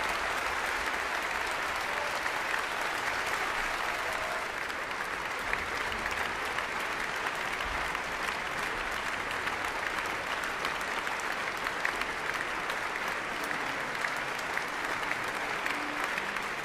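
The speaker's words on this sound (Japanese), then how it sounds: "割れんばかりの拍手、それは音楽家への最高の賞賛です。" Thunderous, sustained concert-hall applause for a pianist, a dense unbroken roar of many hands clapping at an even loud level throughout, with faint crowd noise beneath.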